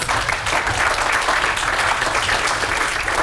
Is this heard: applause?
yes